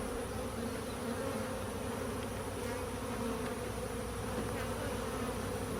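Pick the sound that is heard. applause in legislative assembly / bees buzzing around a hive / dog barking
bees buzzing around a hive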